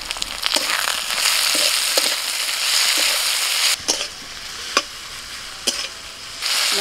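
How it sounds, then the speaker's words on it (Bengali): Chopped tomatoes with salt fry in oil with ginger and garlic, a loud close sizzle broken by repeated scraping strokes of a spatula stirring the pan at irregular intervals. "নাড়াচাড়া করতে করতে টমেটোটা ভাজা হয়ে গেছে"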